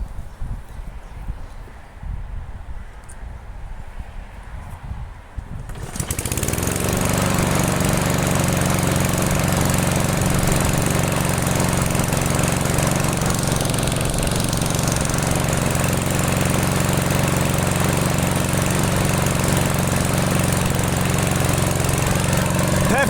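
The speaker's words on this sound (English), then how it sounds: "I'm gonna prime it and start it up and see if the drive works" A restored lawn mower engine, primed before starting, fires up after about six seconds of quiet outdoor background and then keeps running at a steady, loud, even drone until the end.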